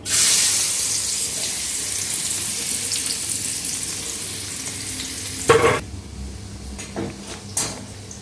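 Chopped garlic dropped into hot oil in a pan, an immediate loud burst of sizzling that settles into a steady fry, punctuated by a few stirring scrapes and clatters near the end.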